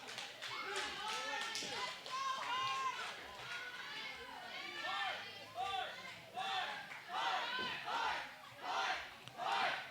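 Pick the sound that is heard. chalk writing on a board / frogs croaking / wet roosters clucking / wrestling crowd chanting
wrestling crowd chanting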